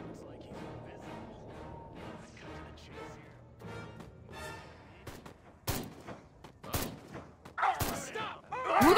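Gunfire from the video game Destroy All Humans, with sharp bursts and shots cracking out loudly in the later seconds after a stretch of game noise and voices.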